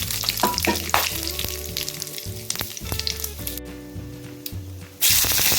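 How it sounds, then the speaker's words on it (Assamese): Whole cumin, dried red chilli and bay leaf crackle and sizzle in hot oil, a loud close fry with spatula clinks and scraping that surges into a brighter hiss at the end; no voices. "গোটা জিৰা শুকান জলকীয়া আৰু তেজপাত লৈছোঁ সেই একেখিনি তেলতে মই এইখিনি দি লৈছোঁ"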